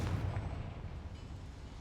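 A Confringo fire spell bursts in Hogwarts Legacy with a deep, booming blast that rumbles on and fades slowly over a couple of seconds, heard alone with no voices.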